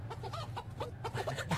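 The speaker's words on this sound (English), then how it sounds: "It's just a chicken wearing tennis shoes." A chicken wearing tennis shoes clucks in a quick run of short, close calls over a low steady background hum.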